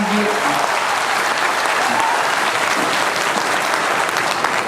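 A crowd at a poetry event applauds a celebrated poet with sustained, full clapping, while a faint voice and a few brief tones sit underneath near the start.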